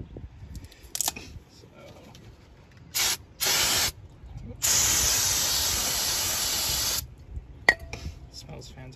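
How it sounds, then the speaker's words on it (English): Brake cleaner hisses from an aerosol can onto the brake caliper of an Audi TT Mk2, first in two short bursts and then in one long, loud, steady spray of about two seconds, with quiet clinks around it. "I'm gonna spray this under the brake caliper and wipe it off with the microfiber"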